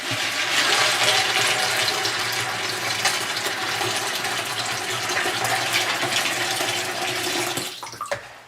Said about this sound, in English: we're going to fill this bowl of peas with water